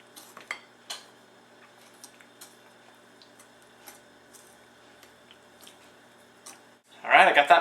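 A whisk mixes zucchini bread batter in a bowl, making sparse, light metallic clinks and taps at an uneven rhythm. A louder, dense burst of clatter comes at the very end.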